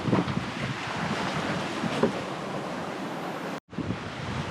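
Steady wind rushing across a sailboat at sea in a fresh breeze, constant loud buffeting against the microphone with wave wash beneath and a brief dropout near the end.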